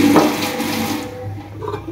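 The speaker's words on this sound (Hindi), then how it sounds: "ये मैंने इसमें पानी डाल दिया" Water pours into a mixer grinder jar along with Vim Lemon Max dishwashing liquid, a close splashing gush that fades into a softer trickle, with no talk.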